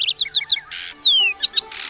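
A male sparrow chirps in quick bright bursts, close and loud, with short gaps and a brief rising-falling whistle among the calls.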